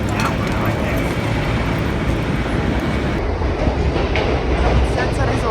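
A New York subway train rides along with a loud, continuous rumble and rattle of the cars, while people talk over the noise.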